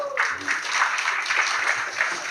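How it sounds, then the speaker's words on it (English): A small gathering at a Srimad Bhagavatam talk claps in uneven, moderately loud bursts for a couple of seconds, without speech over it. "Give him an applause."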